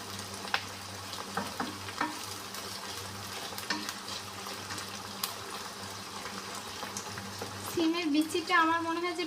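Chicken fries in oil with bean seeds, making a steady soft sizzle with scattered small clicks, and a brief voice near the end.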